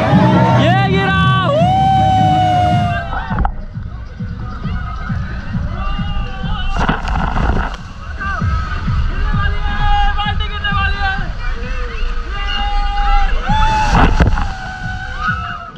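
A giant tipping bucket at a pirate-themed water park dumps its load with a big rushing splash, amid a noisy crowd of shouting, whooping visitors and someone talking over the din.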